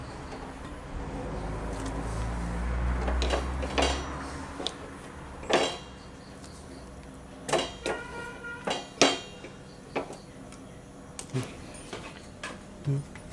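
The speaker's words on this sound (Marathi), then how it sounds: "हे जे बेसनाचं मिश्रण आहे ते मी आपण तेल लावलेल्या ताटलीमध्ये काढून घेणार आहे" A metal spoon scrapes and taps a besan (gram flour) mixture from a pan into an oiled plate for patvadi, starting with a low rumble and then producing a series of distinct clinks and scrapes at irregular intervals, close by, with no talk.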